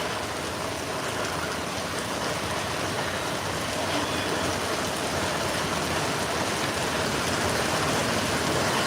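A steady, heavy downpour hisses loudly and evenly throughout over Kuttiady town, with no break in the rain.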